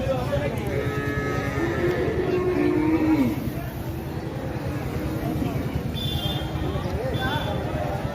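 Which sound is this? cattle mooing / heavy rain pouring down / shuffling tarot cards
cattle mooing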